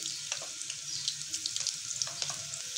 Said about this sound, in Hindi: और अब मैं इसके अंदर प्याज ऐड कर दूँगी। इनको हम लोगों ने जो है लाइट ब्राउन कर लेना पहले।